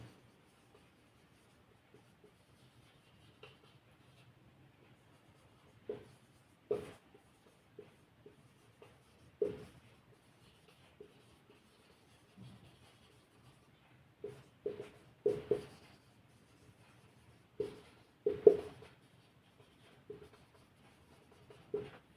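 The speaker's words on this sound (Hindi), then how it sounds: "लिख देता हूं मैं" A pen writes out a thermodynamics physics problem, making faint, intermittent scratching strokes in short bursts, quiet and close, with gaps of near silence between them.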